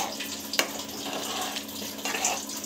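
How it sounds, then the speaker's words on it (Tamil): Water pours steadily into mushroom gravy simmering in a pan, a continuous close splashing gush with one brief knock partway through, heard alone without talk. "ஸோ இப்போ வந்து பார்த்திங்கன்னா இந்த தண்ணி வந்து போட்டுக்கிறோம்."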